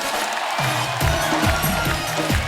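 Studio audience on The Kapil Sharma Show applauding and cheering the entrance of guests Ajay Devgn and Tabu: sustained, loud crowd clapping and cheers with music playing underneath.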